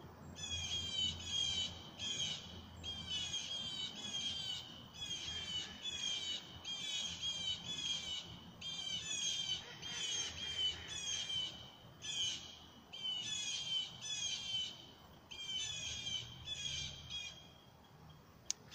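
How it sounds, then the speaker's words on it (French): Birds squawk and caw in a forest, harsh repeated calls coming in steady bursts through the whole stretch over a soft background hum. "Entendez les oiseaux."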